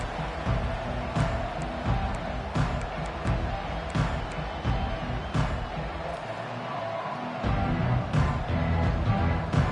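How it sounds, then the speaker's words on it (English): A crowd at a Buccaneer football game roars in a large stadium, a dense, loud, continuous wall of cheering and noise with a brief dip midway. "This crowd bringing an ear-splitting welcome to their visitors."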